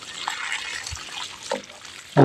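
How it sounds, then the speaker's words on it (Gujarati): Water runs from a hose pipe while the machine is switched off, a soft, continuous trickle and splash heard close by, ending with a sudden louder burst. "નળીએ પણ પાણી ચાલુ."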